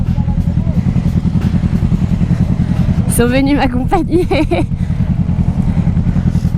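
A 2018 Kawasaki Z650 motorcycle engine thrums loud and close at full throttle with a steady pulsing drone, while a voice speaks over it midway.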